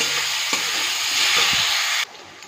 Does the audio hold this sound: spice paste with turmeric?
yes